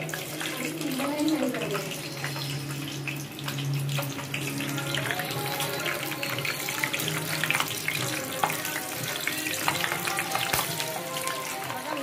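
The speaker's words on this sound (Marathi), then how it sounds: "आता ह्याच्यामध्ये आपल्याला 2 ते 4 अशा हिरव्या मिरच्या मस्त तेलातून कडकडून काढून घेऊया।" Green chillies crackle and fry in hot oil for sabudana vada, a steady sizzling hiss that runs throughout at moderate level, with no talking.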